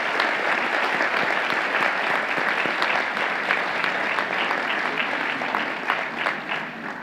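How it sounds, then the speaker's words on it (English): Sustained applause at a law school graduation celebration honoring graduates' family and friends, a large crowd clapping evenly throughout with crisp individual claps and no letup. "Let's give your family and friends a round of applause."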